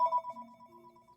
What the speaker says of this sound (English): That would be a phone, in case anyone could hear that.